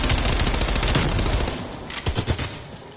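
Rapid bursts from an MP5 submachine gun in Call of Duty Cold War, a loud continuous stream of shots that fades out, followed by a few scattered closer pops.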